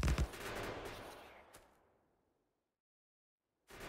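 Sniper turrets in Factorio fire a quick burst of sharp shots that fade into silence, followed by one more loud crack at the end.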